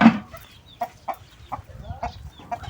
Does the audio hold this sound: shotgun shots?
no